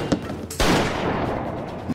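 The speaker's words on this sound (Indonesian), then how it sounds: "sesaat kemudian terdengar ledakan senjatanya" A pistol gunshot cracks out loudly in a Korean drama scene, followed by a sustained burst of noise, with background music underneath.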